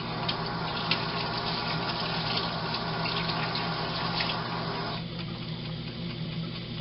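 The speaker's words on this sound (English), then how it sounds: "wash our hands really, really quick" Water runs steadily from a kitchen tap as hands are washed, a close, continuous gushing splash that drops in level toward the end when the flow changes.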